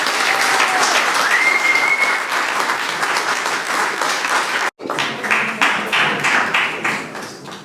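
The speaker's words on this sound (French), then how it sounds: "je demande au public de l'applaudir" Steady applause from an audience at the Ejo Heza Excellence Prize 2018 ceremony for an award winner, a dense, loud clapping that breaks off for an instant and resumes with slightly more distinct claps.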